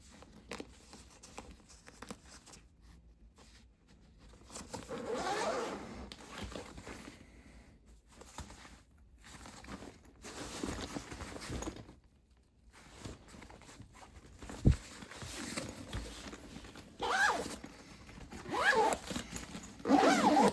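The zipper on an LTT backpack is pulled open and closed repeatedly, giving long rasping zips with pauses, fabric rustling and handling noise between strokes, close and fairly quiet.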